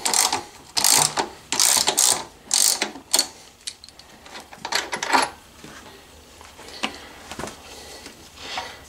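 A ratchet fitted with a 6mm Allen bit loosens an exhaust mount bolt on a Honda Africa Twin CRF1000L motorcycle: loud, close rhythmic clicking bursts, then sparser, fainter ratchet clicks and small metallic taps, with no speech.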